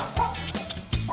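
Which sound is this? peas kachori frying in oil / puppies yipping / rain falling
puppies yipping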